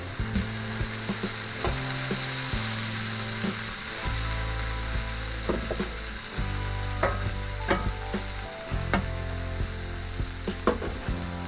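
Tomatoes and mushrooms sizzle on a hot steel plancha for a full English breakfast, a steady loud crackle punctuated by metallic scrapes and taps of a spatula.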